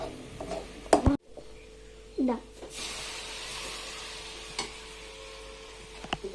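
Mushroom masala stirred in a pan, spoon clicks and scrapes over a low sizzling hiss, with a person talking over the cooking.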